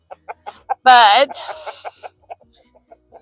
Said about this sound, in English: these guys, I'm raising them like meat birds